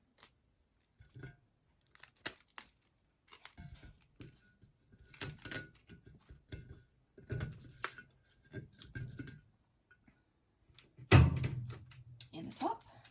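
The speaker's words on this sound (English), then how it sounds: "I'll hold it really tight, and I'll tape in the middle." Tape being pulled and pressed to hold a sublimation wrap onto a tumbler, scattered close crinkles, rips and taps of varying loudness spread across the moment, with one sharper bump near the end.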